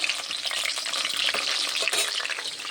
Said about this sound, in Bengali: আর এখানে আলুটা ভাজা হচ্ছে